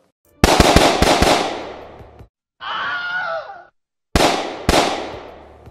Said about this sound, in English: Shoot till you see the whiteness of their eyes. Fire!